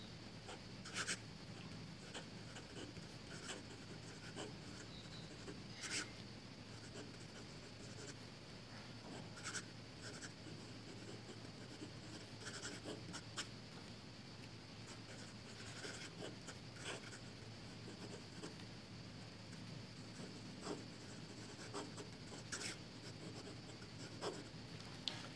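Pilot Custom 743 fountain pen with a soft fine nib scratching lightly across paper, steady close strokes with brief lifts and taps between words for a long stretch, quiet room, no talking.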